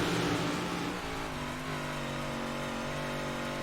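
Big block modified dirt race cars at Charlotte in 2021, engines droning and revving around the track in a sustained, layered roar that settles into a steady hum, heard at a distance with no talk over it.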